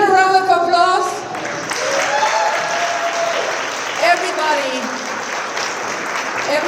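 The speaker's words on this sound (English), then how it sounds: "Please give a round of applause." Audience applause at a panel event on AI and women leadership, steady loud clapping from a crowd lasting several seconds, mixed with a few voices and cheers.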